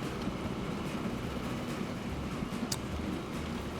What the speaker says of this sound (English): Let our train come in.